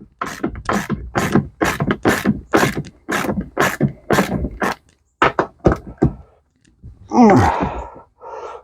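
A ratchet works loose the front seat bolts in a Square Body truck, giving a fast run of sharp clicking strokes, then a few slower clicks, followed by a clunk and a rustling thud.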